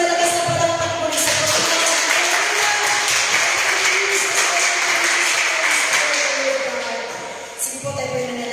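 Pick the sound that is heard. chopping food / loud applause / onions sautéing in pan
loud applause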